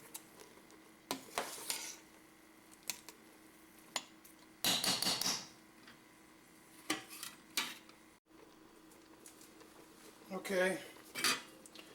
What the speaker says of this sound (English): give these just a stir